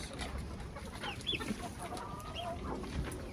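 Backyard free-range hens cluck softly in and around a nesting box, scattered low calls and a few brief squawks over a faint background murmur.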